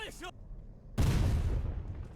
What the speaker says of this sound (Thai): รอยิงปืนใหญ่อยู่